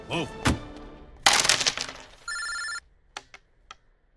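A telephone rings once in a short electronic burst in a Hindi gangster action thriller, following a voice and a sharp crashing hit, with a few scattered clicks afterward.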